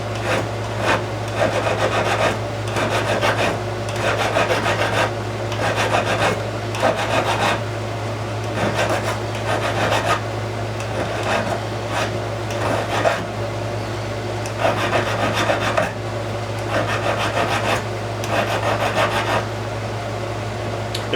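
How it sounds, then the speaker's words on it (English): A coarse-grit file working a metal bezel rasps in steady, rhythmic strokes, close and loud, over a constant low electrical hum. "There's two different grits to this particular file. I'm doing it with the heaviest grit first"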